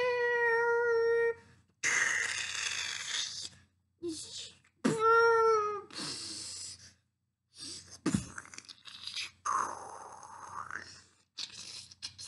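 A corrupted cat in a glitch-themed video game meows several times. The drawn-out, tonal meows come in bursts separated by short silences, with crunchy, tearing noises in between.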